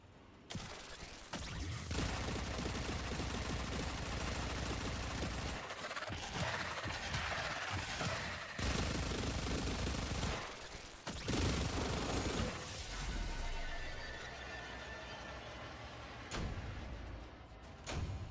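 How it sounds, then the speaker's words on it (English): Sustained minigun fire in the Warframe video game roars loud and continuous, broken by brief pauses and mechanical clunks, with no talking. "It really is just a minigun at that point."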